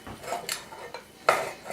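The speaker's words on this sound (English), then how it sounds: "Oops, pulled it off my hot plate." A stone crock pot clatters as it is pulled off a hot plate while turkey chili is made, giving a few close ceramic knocks and scrapes with one sharper clunk near the end.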